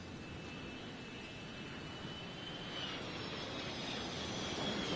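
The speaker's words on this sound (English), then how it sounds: "So many damn planes flying over here." Airplanes pass overhead in the video game Hidden Agenda, a distant, steady jet roar that slowly swells louder, with a thin high whine running through it and no voices.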